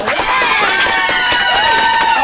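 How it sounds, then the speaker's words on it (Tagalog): A studio audience claps in brisk scattered bursts, mixed with whoops and cheering voices, at the opening of a Filipino entertainment show. "Palakpak tayo para masaya."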